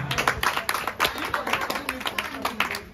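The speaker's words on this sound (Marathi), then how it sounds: "जोरदार टाळ्या झाल्या पाहिजेत अनिकासाठी" A crowd claps for a prize winner at a Navratri 2025 children's games event, giving brisk, uneven applause at moderate volume with voices mixed in throughout.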